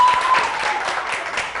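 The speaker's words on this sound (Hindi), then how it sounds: "एक बार जोरदार तालियों से बहुत बहुत मुबारक हो" A television studio audience gives a brief burst of even clapping to congratulate a newly married guest on a morning show, with a voice faintly underneath.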